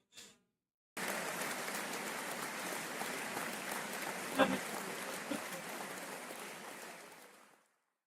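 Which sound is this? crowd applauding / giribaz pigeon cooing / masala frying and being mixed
crowd applauding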